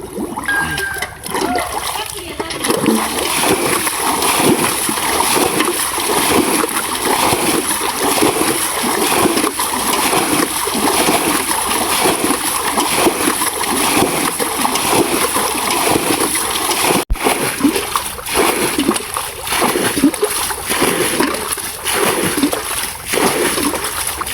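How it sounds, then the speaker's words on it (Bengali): Water being bailed out of a small pit during traditional fishing, a continuous loud run of splashes and sloshing pours, close by, with a voice speaking briefly over it. "এখন আমি সেচ দেওয়া শুরু করবো"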